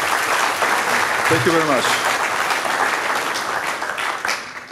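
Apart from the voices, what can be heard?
audience applause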